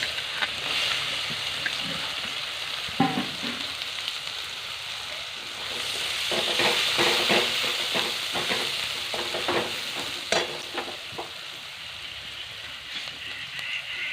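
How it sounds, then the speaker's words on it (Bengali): Chopped onion fries in a pan of oil with a bay leaf and a dried red chilli, giving a steady, fairly quiet sizzle broken by stirring scrapes and a few clinks. "যতক্ষণ পেঁয়াজটা একটু ভাজা ভাজা হোক"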